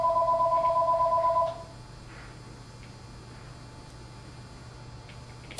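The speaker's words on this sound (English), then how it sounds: "And there's the phone. We'll wait for that to stop." A telephone rings in a steady electronic trill for about a second and a half, then cuts off, leaving quiet room noise with a low hum.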